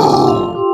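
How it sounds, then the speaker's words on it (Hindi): A short, deep growling grunt, close and fairly loud, lasting under a second before cutting off. "भूखा भालू है गुर्राता,"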